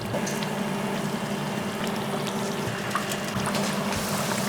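Fries dropped into hot frying oil hiss and bubble in a steady, dense sizzle that holds at an even, close level throughout, with no talking.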